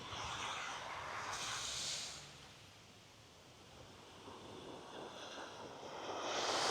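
Wind and waves at overcast Trinity Beach make a faint, steady hiss and wash, with gusts buffeting the microphone that swell and ease over several seconds.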